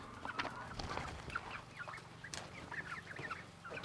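Several chickens cluck and murmur softly nearby, a scattered, continuous chorus of short clucks over faint background noise, with no one speaking.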